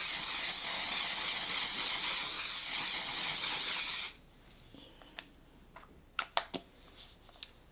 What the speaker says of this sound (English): I'm just going to top it off with the Until Dawn Mattifying Waterproof Setting Spray